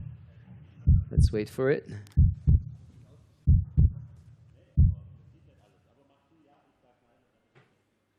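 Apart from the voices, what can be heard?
heartbeat sound effect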